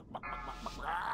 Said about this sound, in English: Drax making the clucking noise is the best.